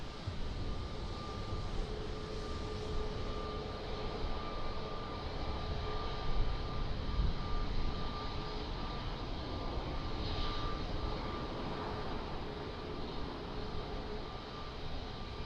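A jet airliner takes off from runway 02 at Lisbon Airport, a steady broad engine roar heard from a distance that swells slightly midway and holds through, with no voices.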